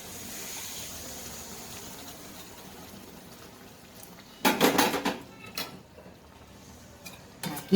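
Water is poured into a pot of stuffed brinjal curry as it cooks, giving a short splashing gush with pot and utensil clatter over a quiet background.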